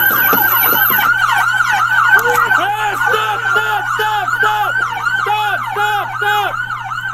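Police car sirens wail during a pursuit, a loud, continuous rising-and-falling yelp cycling rapidly over and over, close by and dominating the scene.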